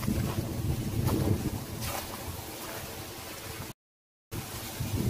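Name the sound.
strong gusty wind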